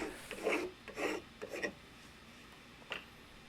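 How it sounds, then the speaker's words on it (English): Wooden spokeshave set for a heavy cut shaving wood on a hand-carved coffee mug, giving a few quick close rasping strokes followed by quiet, with a last short scrape near the end. "So I switched over to a wooden spoke shave. This is set for a heavy cut"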